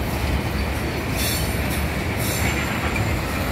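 A Carolina & Piedmont GP38-2 freight train switching cars near a BASF plant, with a steady loud rumble of rolling rail cars and bursts of high wheel squeal, close by with no talking.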